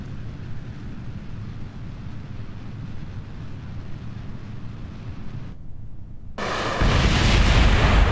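Rocket boosters separate in a space-flight video game, heard as a steady rumbling roar that drops out briefly, then bursts back in louder and brighter near the end.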